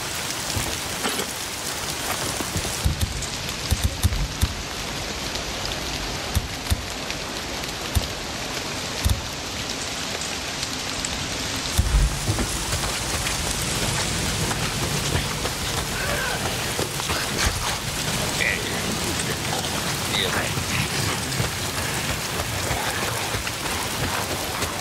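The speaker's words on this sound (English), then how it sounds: "Damn rain. If it's not the freaks, it's the goddamn rain." Steady rain pours across a surface in the video game Days Gone, a constant hiss lasting the whole stretch, with soft low rumbles of distant thunder underneath. No speech.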